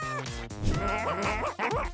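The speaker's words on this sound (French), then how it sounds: "Attendez, mes toutous, soyez sages." Several cartoon dogs in the Avatar World game bark and yip in quick bursts, with a whimper mixed in, loud and close over steady background music.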